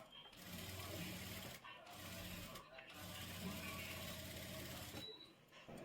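A sewing machine stitches palazzo fabric in steady whirring bursts, running nearly continuously with a couple of short pauses, while a faint voice is present beneath the motor.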